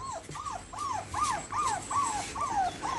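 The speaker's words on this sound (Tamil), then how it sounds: "அடுத்து ஒரு செங்கண்ணி குட்டி இருக்குது." A Kanni (Sengkanni) puppy at a kennel gives a run of repeated high whimpers and yips in a steady, close rhythm, about one cry every half second, with no talk.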